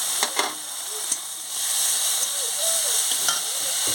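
Chopped onions sizzle and hiss steadily in hot oil in a pan while being stirred for a spicy fish curry, with a few soft utensil knocks and scrapes near the microphone.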